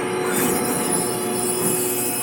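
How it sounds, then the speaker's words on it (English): A train braking to a stop in Red Dead Redemption 2, a loud sustained grinding rumble with high metallic squeal, continuous across the whole moment with no talking. "Train അവിടെ നിർത്തി."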